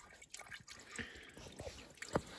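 Coolant draining from an IH 844S tractor, scattered soft drips and trickles at close range with one sharper splash near the end, no talking.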